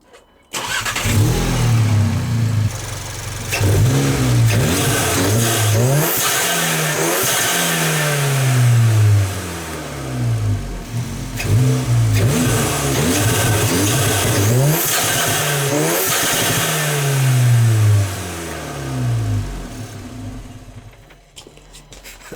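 A turbocharged VW Golf GTI engine with a diverter valve spacer revs repeatedly in loud surges, each rise ending in a whooshing release, with the engine droning steadily between pulls.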